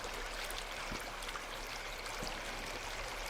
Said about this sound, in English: Is that running water?